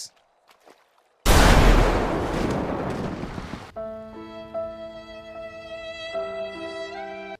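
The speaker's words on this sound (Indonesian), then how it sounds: "Meledak dikit nggak ngaruh." A sudden loud video game explosion bursts out after a brief quiet, roaring and rumbling for a few seconds, then gives way to sustained synthetic musical tones.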